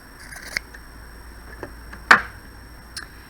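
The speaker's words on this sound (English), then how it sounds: "So what I'm going to do is get my scissors" Scissors snip along a fabric seam allowance while trimming it for a sewn seam, a few sparse, faint clicks and one sharper cut in an otherwise quiet room.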